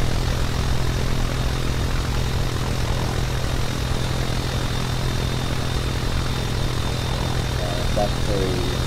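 Boeing 737-800 airliner in the Roblox flight game Aeronautica, a steady, loud engine drone holding evenly throughout with a constant low hum and a brief tonal blip near the end.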